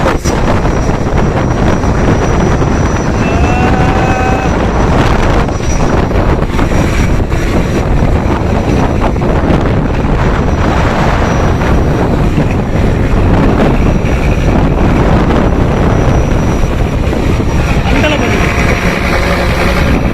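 Strong wind blows steadily over a shelter at sea, a loud, continuous roaring rush with buffeting on the microphone, and voices talk faintly beneath it throughout.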